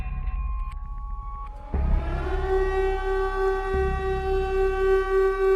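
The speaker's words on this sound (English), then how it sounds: "Her ears could hear the siren going off." A siren starts up after a brief rumble, rising into a steady, loud wailing tone that holds for several seconds over a low background drone.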